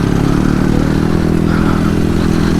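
A motorcycle rides over a rough mountain trail road in Kayapa, Nueva Vizcaya, with a steady loud engine drone mixed with rattling clatter from the bumpy surface throughout.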